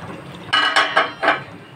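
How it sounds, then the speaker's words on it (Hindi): A metal lid comes off a cooking pot of beef kofta curry with four quick, bright clinks and scrapes in a row, close and sharp. "ढक्कन हटा के देखती हूँ, 5 मिनट हो गए हैं।"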